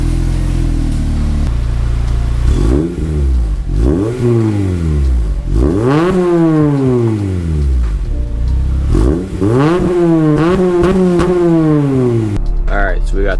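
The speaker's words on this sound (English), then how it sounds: "we got the first drive with the exhaust here" A car with a newly fitted exhaust on its first drive, the engine revving up and down in repeated surges as it pulls away and shifts through the gears, loud and close.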